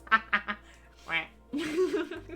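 Three short, nasal duck quacks in quick succession, then a longer drawn-out quack and a raspy, voice-like call, all fairly close and loud against a quiet background.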